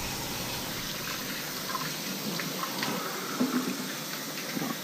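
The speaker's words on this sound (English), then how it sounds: "And we're gonna wash our hands." Hands are washed under running tap water in a kitchen during pork rib prep, a steady soft hiss of flowing water with faint splashes and small knocks.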